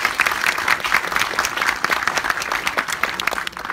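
Loud, sustained applause from an audience at a film premiere screening in a cinema, dense clapping from many hands that carries on steadily and fades slightly at the end.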